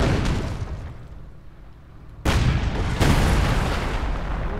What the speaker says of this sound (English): Sturm Panzer there opening up on the T-34